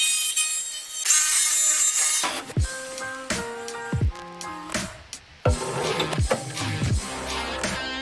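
Thin body material for a quad-motor RC car build being cut by hand, close scraping and snipping strokes in an irregular rhythm after a short stretch of steady hiss, no talk.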